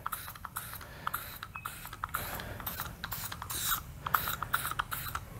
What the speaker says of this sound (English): I'm going to go east and west to wipe this off.